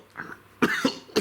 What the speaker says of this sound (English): Again, I do apologise for coughing, folks.